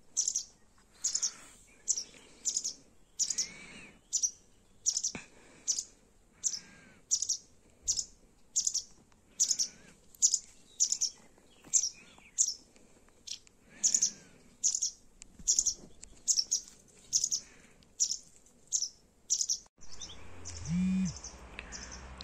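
A small bird chirps in short, regular bursts of high, sharp notes, repeating steadily with brief pauses between, fairly close in a quiet setting.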